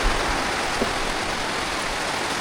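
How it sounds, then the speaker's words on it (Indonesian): Heavy rain pours down in a forest, a loud, dense, continuous hiss of water striking leaves and ground with no letup. "Hujan deras guys, hujan deras."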